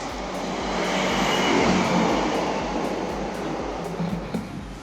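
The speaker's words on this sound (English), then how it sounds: "in typical now there's a fast train." A fast train rushes past a rural station near Grindleford without stopping, a broad roar that swells to a peak and slowly ebbs, with regular rhythmic thumps of wheels over rail joints running beneath.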